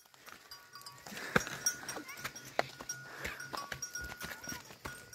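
Village goats bleat in short, scattered calls at close range, with light hoof clatter and shuffling around them and no talk.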